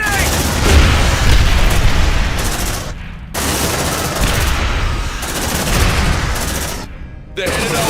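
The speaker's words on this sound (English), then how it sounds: "Grenade!" Grenade blast and sustained gunfire in the sci-fi action game Aliens: Dark Descent, loud and dense throughout, with brief drops near three and seven seconds, while voices shout over the combat.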